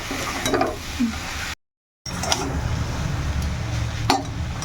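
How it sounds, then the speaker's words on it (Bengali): Greens tossed and stirred in a frying pan, with a steady low sizzle and a few soft scraping strokes, broken by a brief silent gap; no one speaks. "এটা একটু ভালো করে এবারে নাড়িয়ে চাড়িয়ে নেব।"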